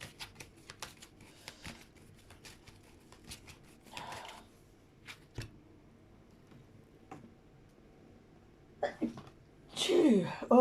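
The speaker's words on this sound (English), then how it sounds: "Oh, it did sneeze" A single person's sneeze bursts out near the end, loud and close, after a stretch of quiet room tone with scattered small ticks and shuffling sounds.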